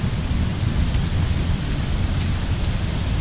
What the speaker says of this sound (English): towards the falls, which you can hear quite nicely in the background